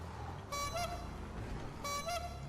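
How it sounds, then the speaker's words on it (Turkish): Two short double honks from a car horn in the video game GTA 5, spaced about a second apart, sounding faint over low background noise. "Bak kornam şekil ya."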